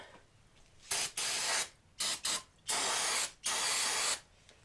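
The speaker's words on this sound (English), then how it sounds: "I'm going to take a can of brake parts cleaner. I got one right here. We're going to hose this out." Brake parts cleaner sprayed from an aerosol can into a Harley-Davidson engine that locked up, in a series of close, loud hissing bursts of varying length separated by short pauses.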